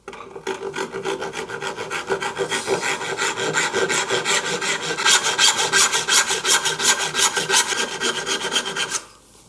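Rhythmic back-and-forth rasp of a hand saw cutting wood for triple tenons on a modern desk build, steady close strokes that quicken and grow louder before stopping abruptly.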